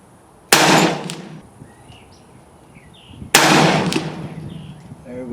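Two loud gunshots from a Hi Point .45 ACP carbine firing hot bowling pin loads outdoors, spaced about three seconds apart, each a sharp blast with a long ringing decay.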